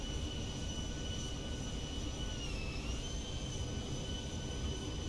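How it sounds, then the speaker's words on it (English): Steady jet engine whine from a Boeing 737 in the X-Plane 11 flight simulator, a continuous tonal hum over broad roaring noise, fairly quiet and even, with a slight dip in pitch midway. "let's make sure we've got the engine sounds"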